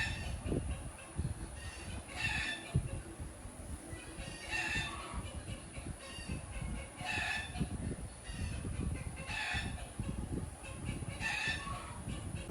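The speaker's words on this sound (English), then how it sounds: "can you still hear the chicken?" A chicken outside clucks and crows in repeated bursts, faint and distant behind closed windows, under a steady low background rumble.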